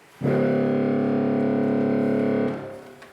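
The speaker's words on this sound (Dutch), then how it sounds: "Normaal gesproken een bazuin, die klinkt zo." A single sustained, brassy reed tone from a pipe organ's trombone stop holds for about two seconds, then cuts off, leaving a brief fading resonance.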